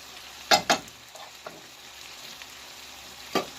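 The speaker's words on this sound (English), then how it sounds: "Stir this up a little bit more." Beef and broccoli stirred in a hot pan: a couple of sharp scraping strokes early, a quiet sizzle in between, and one more stir near the end, close by with no talk.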